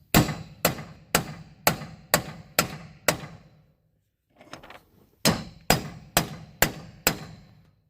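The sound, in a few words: hammering a socket to press in a bearing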